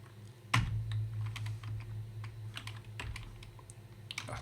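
A few scattered keystrokes tap on a computer keyboard, quiet and close, with irregular short clicks over a low background hum.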